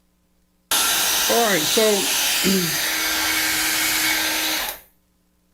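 A handheld hair dryer blows steadily onto an inflated balloon to warm it and smooth out its wrinkles. The motor's loud, even whoosh starts abruptly, runs for about four seconds with a faint steady whine, then cuts off. A voice speaks briefly over the start.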